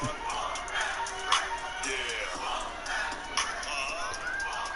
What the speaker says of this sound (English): Crowd having themselves a little party with it.